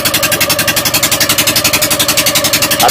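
An unmuffled engine on a bangka boat in the Philippines chugs loudly and steadily at close range, a fast, even pulsing throb throughout with no voices.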